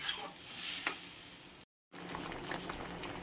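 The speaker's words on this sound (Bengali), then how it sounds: "জলটা দিয়ে ভালো করে ফুটিয়ে নেব।" Water boils and bubbles in a pot of soybean and potato curry, a bright, busy bubbling with a few louder pops and a brief silent cut midway before the boiling resumes.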